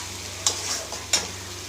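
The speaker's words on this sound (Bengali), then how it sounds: "এই চার পাঁচ মিনিটে পেঁয়াজগুলো ভাজবো রসুনগুলো ভালো করে ভাজা হয়ে যাবে" Onion, garlic, ginger and chili paste fry in oil in a pan, a continuous close sizzle broken by two sharp spatula scrapes or stirs, with a low steady hum underneath and no talking.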